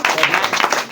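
A classroom of children bursts into brief, lively applause for a boy student, a dense patter of many hands clapping at once, close and loud.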